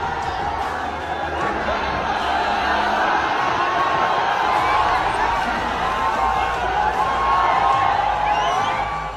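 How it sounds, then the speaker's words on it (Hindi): A crowd of thousands at the Chauharmal fair welcomes Chirag Paswan with steady cheering, whoops and chatter, a dense continuous roar with no pauses. "एक तरफ हजारों की भीड़ ने चिराग पासवान का भव्य स्वागत किया"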